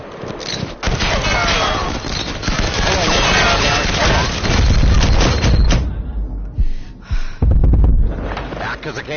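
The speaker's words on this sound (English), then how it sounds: "I can't hear you over the gunfire" Heavy gunfire in the online shooter Firewall Zero Hour, rapid overlapping bursts and thumping impacts running almost continuously, with players talking over the shooting.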